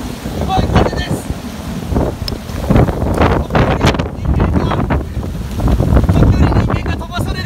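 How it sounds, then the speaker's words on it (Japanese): Strong typhoon wind buffets a microphone on Ishigaki Island, roaring and gusting continuously with loud rumbling bursts throughout, mixed with a wash of rushing air. "すごい風です。"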